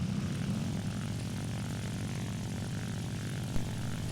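MC 200 Series 7 propeller fighter in War Thunder, its piston engine droning in a steady, loud buzz with a rough propeller throb, constant throughout with no voices.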